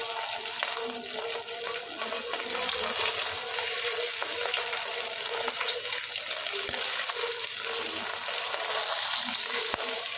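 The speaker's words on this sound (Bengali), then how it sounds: "সবকটা পনির ভাজা হয়ে গেল কর্নফ্লাওয়ার দিয়ে" Cornflour-coated paneer fries in a pan with oil, giving a dense, continuous close sizzle and crackle with occasional sharp pops throughout.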